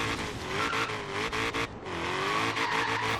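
A supercharged Ford GT350R in Forza Horizon 3 roars loudly and continuously, its engine note climbing then dropping briefly at each aggressive gear shift before pulling hard again.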